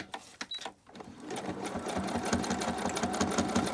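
A sewing machine stitches a fabric junk journal cover, starting with a few short bursts and then running in a steady, close, rapid whir of needle strokes for several seconds.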